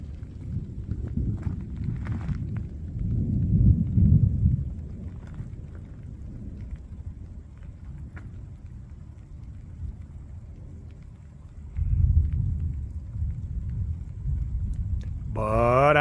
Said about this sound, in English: it is starting to rain again.